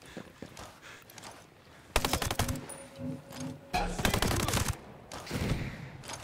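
An automatic mortar firing in Ghost Recon: Breakpoint, loud rapid salvos of repeated blasts at close range in two main bursts, with quieter intermittent fire between them.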